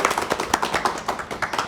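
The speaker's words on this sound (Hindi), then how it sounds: "बाबा के लिए जोरदार तालियां।" Audience giving loud applause for Baba at an event for a free residential school in Omkareshwar, Madhya Pradesh, heard as a steady run of fairly close, sharp clapping.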